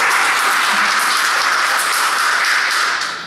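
Audience at a school's opening-day ceremony for the academic year, giving a loud, dense burst of continuous applause that holds steady and fades slightly at the end.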